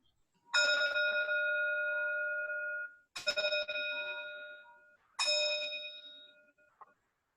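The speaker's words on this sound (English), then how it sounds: "So I'll ring the bell to transition us into the meditation." Meditation bell at a Buddhist service, struck three times at a slow, even pace, each clear ringing tone sustaining and fading before the next, close and alone.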